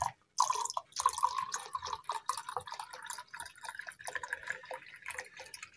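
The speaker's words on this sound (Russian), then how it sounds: "Налевываем." Isabella wine pours from a bottle into a glass, a quiet close gurgling and splashing stream with bubbly, uneven glugs lasting several seconds.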